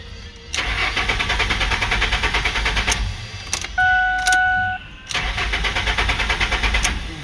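A Ford F-150 engine cranks on starting fluid in bursts, loud and close, separated by pauses, with a brief whine between attempts and no steady idle catching.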